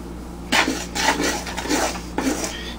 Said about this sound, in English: what you have to do is stir it here and there